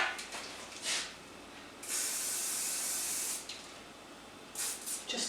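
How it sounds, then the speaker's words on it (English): Hair holding spray is misted onto freshly curled hair from an aerosol can in several hissing bursts: a short puff, one long steady spray, then a few quick spurts, close and fairly loud. "I'm just going to grab my holding spray."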